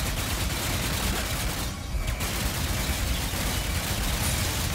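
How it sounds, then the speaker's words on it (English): Blast pistol fire in the video game Ratchet and Clank: Rift Apart, a dense, continuous barrage of loud shots and explosive bursts with one short lull near the middle. "Now is a good time for the blast pistol."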